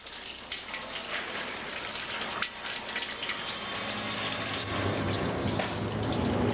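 Water runs continuously in a steady, broad rushing stream close by, with no voices.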